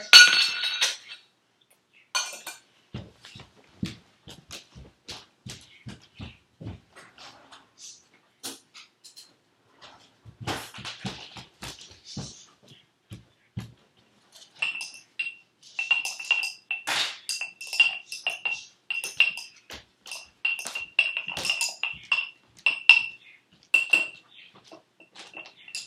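A spoon stirring a soap mixture in a glass for a school science experiment: scattered bright clinks and taps against the glass, with pauses between them, then a sustained ringing ping under busier clinking in the second half.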